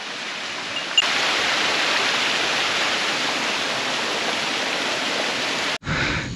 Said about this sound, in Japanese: いや、すごい滝の音が。